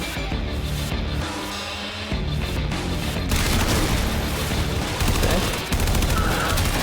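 AK rifle fire in Warframe 1999, sustained automatic shooting mixed with game music and effects, loud and continuous, growing denser in the second half.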